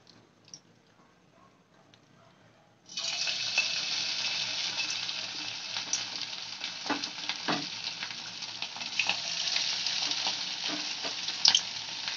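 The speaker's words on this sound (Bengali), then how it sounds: "এবার চিকেন পকোড়াগুলো আমরা এবার একটা একটা করে ভেজে নেব।" Chicken pakoras drop into hot oil over medium heat, and a sudden steady sizzle of deep frying starts and keeps going, with soft crackles and pops and no talking.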